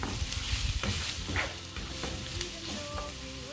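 Tomato sautéing in a pan gives a steady sizzle and frying hiss, with stirring scrapes and a few light clinks throughout, continuous and fairly close, with no talking.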